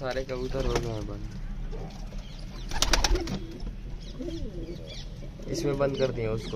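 Pet pigeons in a cage coo softly and flap their wings in a brief burst, with close chirps and rustling while a person talks over them.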